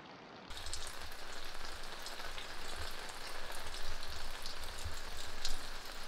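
Rain patters steadily at a campsite at Fir Creek Camp, Idaho, a close, dense hiss of drops striking tarp and ground that continues without a break, with no talking.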